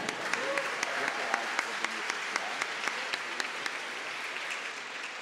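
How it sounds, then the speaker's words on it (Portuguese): An audience at a formal award session applauds with steady, moderately loud clapping, a few sharper individual claps standing out through the sustained wash. "Nossos aplausos para Preta Poética."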